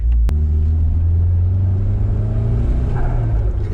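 A Nissan 180SX engine with a newly fitted S15 T28 turbo idles with a deep, steady rumble, then revs briefly near the end; the sound stays loud and close throughout.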